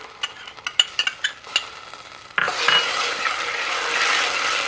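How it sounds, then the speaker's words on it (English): Ginger and garlic hit hot sesame oil for a ramen zoodle dish, starting with a few soft clinks and taps. Then a sudden loud, steady sizzle takes over and holds to the end. "To that, we're going to add our ginger and our garlic."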